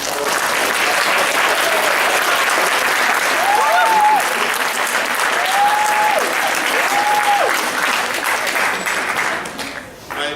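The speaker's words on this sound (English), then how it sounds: "if you could please clap with me again" An audience claps at a lecture on the Middle East, producing a long, sustained and loud round of many hands that fades near the end. A few faint whistles or voices rise through it.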